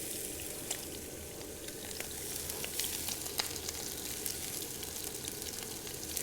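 White onions sizzle steadily as they fry in a pan, a continuous crackling hiss with small pops, with no voices.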